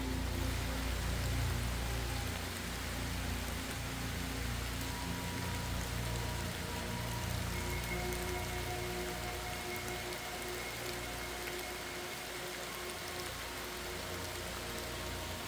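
Steady rain falls through a forest during a mushroom hunt, a dense, even hiss of drops pattering on leaves and ground that continues unbroken throughout, with no voices.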